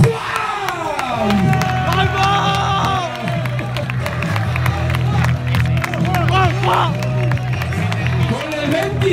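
A large, loud crowd cheers and applauds a football player at a team float parade, with constant roaring and shouting and an announcer's voice calling over the noise.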